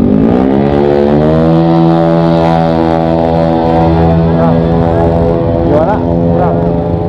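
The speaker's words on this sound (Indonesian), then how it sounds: "Mau nyobain motor nih, nyeting nih." A CVT scooter fitted with an MP7 aftermarket exhaust revs loudly and close, a deep droning engine tone rising in pitch and holding, with brief throttle blips near the end.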